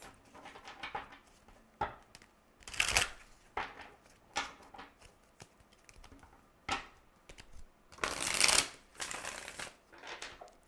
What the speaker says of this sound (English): I'm just going to shuffle these up a little bit.